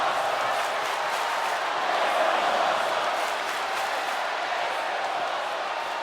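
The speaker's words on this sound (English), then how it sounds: "Crowd chanting, "This is awesome."" Wrestling video game crowd roaring and chanting in a steady, dense wall of noise throughout, with a slight swell in the middle and no clear speech above it.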